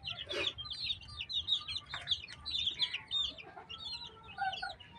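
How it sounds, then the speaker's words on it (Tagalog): Backyard chickens cluck and chatter in short, repeated bursts, fairly near but soft, with overlapping calls from several birds and a quiet background. "Ang pag-aalaga po kasi ng manok."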